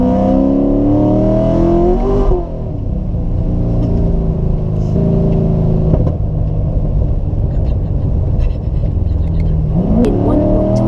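Corvette engine revving hard as the tyres lose traction, a loud close roar with rising and falling pitch sweeps, a sudden dip as grip returns, then continued strong acceleration.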